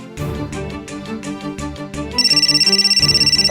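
A telephone ringtone for an incoming call plays loudly, first as a melodic chiming tune and then as a rapid pulsing electronic trill, with no talk over it.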